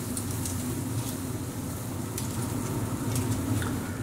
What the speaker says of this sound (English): we're just going to grill them for about 2 to 3 minutes on each side until they're cooked all the way through